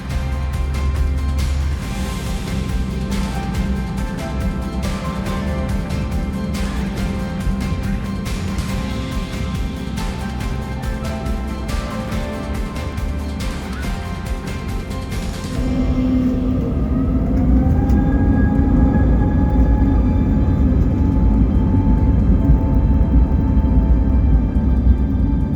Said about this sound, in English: Taking off out of London's Stansted Airport, we begin our 3-hour flight over to Reykjavik's Keflavík Airport in Iceland.